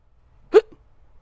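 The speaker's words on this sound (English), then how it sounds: "Guys, I have the hiccups." A single sharp hiccup, one short abrupt vocal spasm in an otherwise quiet room, close and fairly loud.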